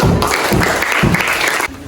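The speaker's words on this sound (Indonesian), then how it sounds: "Tepuk tangan untuk Husna." Students in a classroom applaud a classmate in a loud, steady burst of clapping that ends abruptly near the close.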